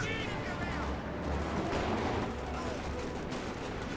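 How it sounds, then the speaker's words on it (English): Light artillery barrage in Company of Heroes 2, a dense rumbling wash of distant blasts and crackling impacts running continuously under faint game noise, with a voice talking over it. "Light artillery barrage being brought in."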